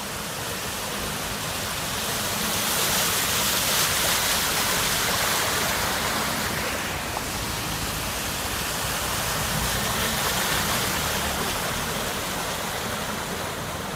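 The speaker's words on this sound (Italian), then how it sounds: "L'acqua continua a salire." Floodwater rushes through a flooded street intersection in Padova's Madonna Pellegrina district during the October 2014 flood, a steady, dense roar that holds close and unbroken throughout, with no voices.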